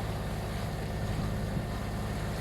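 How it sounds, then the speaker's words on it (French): Sailboat running under engine with sails down along the coast from La Ciotat toward Leucate, giving a steady low motor drone mixed with wind and water noise, continuous throughout. "Donc là ça va être du moteur sans voile sortie"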